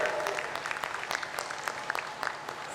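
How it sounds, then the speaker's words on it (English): Audience applause for a speaker at an interior design conference, moderately faint steady clapping with individual claps standing out. "Ladies and gentlemen, a huge round of applause for him."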